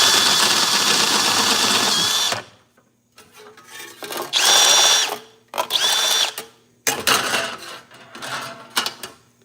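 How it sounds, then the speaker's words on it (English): A power drill bores holes through a metal panel for a plasma CNC table, whining in several bursts separated by pauses, close and loud. "That drill bit just gnawed it."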